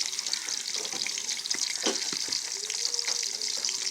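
Chopped onion hisses and crackles as it fries in hot oil in a pan, a close, continuous sizzle with occasional stirring scrapes.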